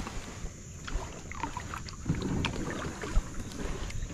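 A kayak paddled on open water at sunrise, soft splashes and drips from the paddle strokes close by, with light wind buffeting the microphone.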